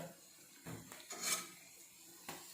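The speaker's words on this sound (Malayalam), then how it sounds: "അതിന് മുമ്പേ ഞാൻ ഈ മീനൊന്നുകൂടെ തിരിച്ചിട്ടെ" Fish pieces being turned in a frying pan during a spicy fish fry, heard as a few quiet scraping and clinking bursts of a spatula against the pan, the loudest near the middle, with no talking.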